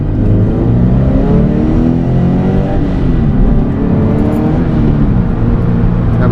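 Scion FR-S fitted with an electric supercharger accelerating hard through second and into third gear, a loud, continuous engine roar with rising harmonics heard from inside the car.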